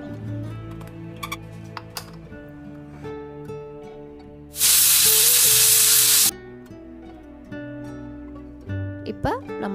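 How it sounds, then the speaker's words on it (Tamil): Pressure cooker letting off a loud, steady hissing whistle for about two seconds in mid-clip while Chettinad chicken curry cooks, with quieter kitchen clatter and stirring before and after. "இப்போ நான் குக்கரில் 2 விசில் வச்சிட்றேன்."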